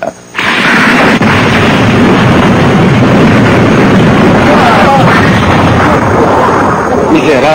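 A loud, sustained cartoon-style explosion roars as a command center is destroyed, a dense rumbling blast that fills the whole stretch after a brief quiet start, with a voice speaking over it.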